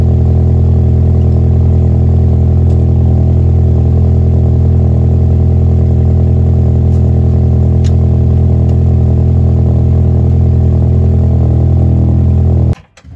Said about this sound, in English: while the cars are both warming up